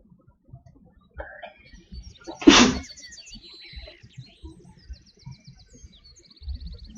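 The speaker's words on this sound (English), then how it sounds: "You sneezed and a flower bloomed." A single sharp human sneeze bursts out loudly in a quiet room, with faint rustling and soft background sounds before and after.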